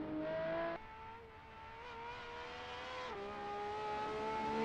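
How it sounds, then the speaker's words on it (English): Simulated V12 car engine in a driving video game with a slightly digitized tone: a steady droning whine that drops in pitch at a gear change, then climbs gradually, sustained and fairly quiet. "Decent sound for a V12. Does sound a little digitized."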